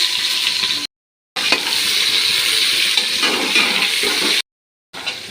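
Onions and spices fry in oil inside a pressure cooker, giving a close, steady sizzle broken by two short silent gaps, with faint stirring scrapes along the way.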